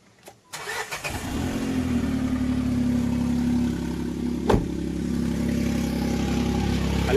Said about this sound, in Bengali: দেখা যাক আমার সাইলেন্সারের কেমন আওয়াজটা শুনবে তো দেখো দেখো এবার গাড়িটা স্টার্ট দিচ্ছি